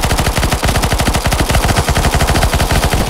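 Automatic gunfire in CS:GO Zombie Escape on the Mines of Moria map: a rapid, evenly spaced stream of close, loud shots firing nonstop as one long burst, with no talking.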